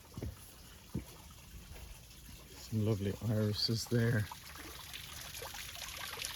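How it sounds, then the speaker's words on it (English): A garden water feature with a water lily and a moss-covered hose trickles softly and continuously in the background. A person speaks briefly over it. "you would have seen the water feature that we made"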